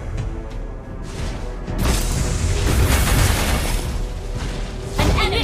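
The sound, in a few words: turret destroyed explosion in Xborg video game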